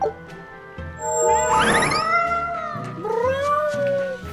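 A cat in the video game Tales of Berseria meows and yowls in a series of drawn-out, rising and falling cries, loud and close, with game background sound underneath.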